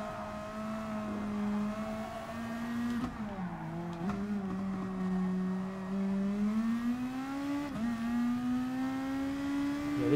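Race car engine in Gran Turismo Sport droning at a steady high pitch, its tone dipping as the car shifts or brakes and then climbing back up, continuous and fairly loud throughout.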